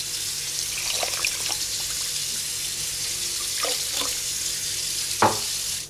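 Water runs into a pot of sugar for baklava syrup, a soft continuous pouring hiss with a few brief clinks and a sharper knock near the end, fairly quiet and without voices.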